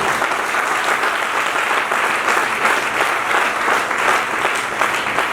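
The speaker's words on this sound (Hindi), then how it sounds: "तो ताली जमनी चाहिए ना हमारे बैक ऑफिस के लिए।" A room full of people at a training session claps continuously, an even, dense roar of applause that holds at steady volume for the whole stretch with little else audible.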